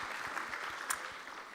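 A brief burst of steady audience applause at a university postgraduate research day, following a speaker's talk, with dense even clapping throughout and one sharp louder clap near the middle.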